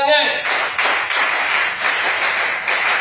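A group of new students claps together in a spirit-clapping routine, the claps sharp and steady in a dense rhythm that carries straight through without pause.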